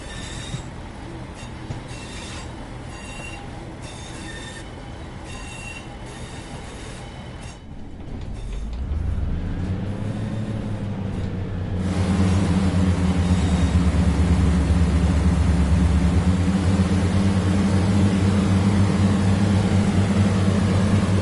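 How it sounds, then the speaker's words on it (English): Train engine in Train Sim World 6, a rail sim, running with a choppy note: rail and wheel noise at first, then the engine revs up into a loud, steady, close drone with wheel squeal and no voices. "Something wrong with how the engine sounds. It's a bit choppy."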